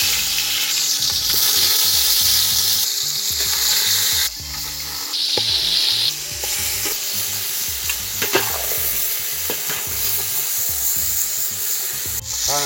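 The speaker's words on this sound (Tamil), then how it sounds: "சும்மா இருக்க சிக்கனை ரோஸ்ட் பண்ணி எடுப்போம்." Chicken pieces roasting in hot oil for a banana leaf chicken biryani give a loud, steady sizzle throughout, with frequent stirring scrapes and clinks in the pan and no talking.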